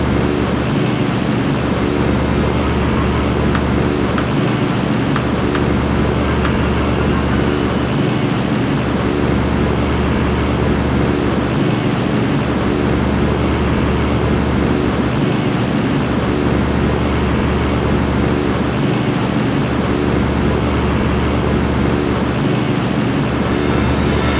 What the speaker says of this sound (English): Just the 288s, but more aircraft are taxiing to the runway